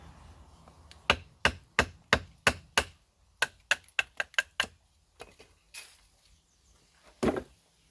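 Wanger WOC Gen II outdoor cutter knife shaving wood, a run of crisp, evenly spaced scraping strokes close by, followed by a few softer, scattered cuts and a final louder stroke.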